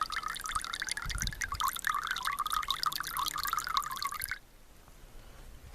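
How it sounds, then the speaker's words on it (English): Water squeezed from a hydration pack hose runs into a tea kettle at camp, a close, steady trickling pour lasting about four seconds that stops abruptly and leaves quiet outdoor background. "Hose come off the hydrant pack, and I just squeeze it. Put water in my tea kettle there."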